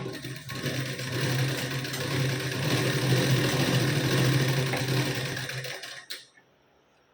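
A sewing machine puts a double line of stitching along a blouse sleeve seam, a close, continuous motor buzz lasting about six seconds, then stopping abruptly with a brief clack at the end.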